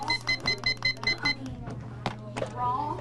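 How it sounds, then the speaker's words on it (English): A classroom buzzer sounds in a rapid series of repeated electronic beeps, then stops, followed by scattered clicks and classroom noise under a background hum. "the buzzer has gone off"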